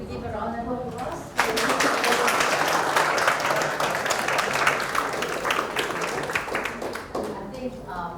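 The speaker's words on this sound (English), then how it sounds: "Okay, shall we give a round of applause?" An audience applauding at an academic talk, dense sustained clapping that starts abruptly after a brief lead-in with a voice and keeps going loud and even to the end.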